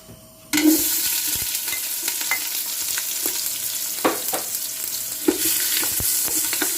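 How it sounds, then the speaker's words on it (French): Onions are poured into heated oil in a pan and start frying for Kabyle meatballs, a sudden loud hiss that settles into a steady close sizzle with occasional crackles and spoon scrapes. "On a dit on a mis de l'huile, on l'a chauffé un peu. Et là, je vais verser mes oignons."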